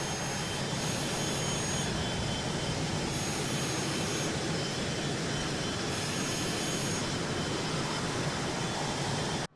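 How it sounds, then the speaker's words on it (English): Phenom 100 light business jet engine in Microsoft Flight Simulator 2024 during an approach to land, a loud steady broadband roar and whine that continues unbroken with no talking. "Let's try to get the plane to land here."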